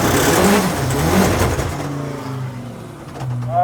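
Drift car engine revving hard on a track, loud and close, with the pitch climbing and falling through sustained acceleration and no talk over it.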